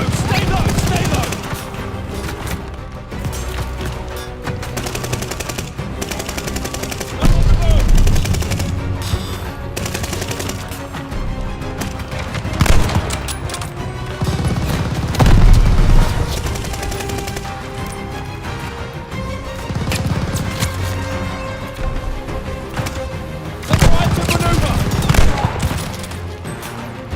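MG-42 machine gun fire in the Call of Duty Vanguard video game: long loud bursts of rapid automatic shots with heavier booming swells, continuing throughout, while shouting voices come through now and then.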